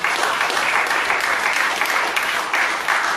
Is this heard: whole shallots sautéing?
no